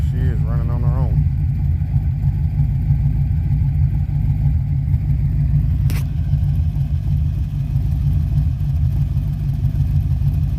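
A Chevy box truck's engine idles close by, a steady low rumble that holds even and unchanging throughout. A brief sharp click breaks in partway through, and the idle stays fairly quiet.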